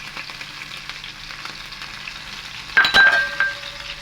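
Soft crackling of mustard seeds, green chilli, ginger and garlic frying in hot oil, then a bright clink of metal or glass with a busier sizzle near the end.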